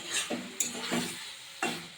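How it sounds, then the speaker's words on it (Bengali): A spatula stirs and scrapes spice paste frying with potato and green banana for a cumin-ginger rohu fish curry, giving several distinct close scraping strokes over a soft, continuous sizzle. "আবারও খুব ভালো করে খুন্তি দিয়ে নেড়ে মশলাটা কষিয়ে নিতে হবে"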